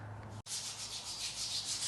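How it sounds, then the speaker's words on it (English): A soft scrub brush rubs a stain out of a self-storage unit's concrete floor in close, continuous scratchy strokes, broken by one brief pause near the start, with no talking. "Joe's got an actual soft scrub brush, and that really helps to try to draw the stain out of the concrete"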